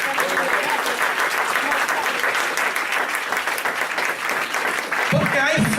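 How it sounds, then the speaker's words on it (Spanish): A church congregation applauds God the Father with loud, sustained clapping from many people, ending with a voice raised over the last of it. "Denle un aplauso al Padre"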